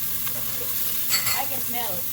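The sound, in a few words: garlic, onion and ginger sizzling in pan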